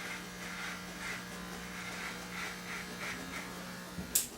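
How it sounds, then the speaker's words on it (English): Electric hair clippers buzz steadily against a scalp during a close head shave, a low constant hum with a faint rasp near the end, heard close and alone. "I found that using these type of clippers, I don't get any bumps on my scalp."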